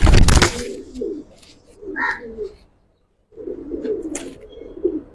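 Giribaz pigeons coo close by in several soft, throaty bursts separated by short pauses, with a sharp rustle at the start and a moment of near silence midway.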